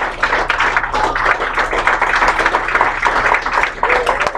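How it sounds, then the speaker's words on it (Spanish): A church congregation applauds loudly and continuously, a dense wash of many hands clapping that fills the room at close range, with a low steady hum underneath. "Dar un aplauso fuerte a Cristo Jesús."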